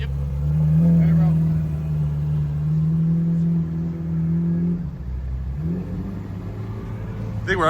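A 7.3 diesel engine runs close by with a steady, loud low rumble that dips briefly around the midpoint, then picks back up at a slightly rougher idle.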